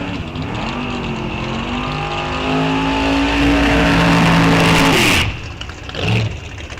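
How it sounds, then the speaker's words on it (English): Drag racing car doing a burnout at Rock Falls Raceway during an NHRA National Open, a loud revving engine whose harmonics climb to a roaring peak, then cut off abruptly, with a brief second blip after. "That's a big burnout right there."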